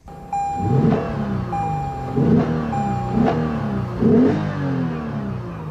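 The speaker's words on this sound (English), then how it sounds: "this is a 306 horsepower V6 that puts out 277 pound-feet of torque" A 3.5-liter V6 in a 2015 Lexus RC 350 revs in four sharp, rising bursts, each blip falling back before the next, with a faint tonal beep between some of the revs.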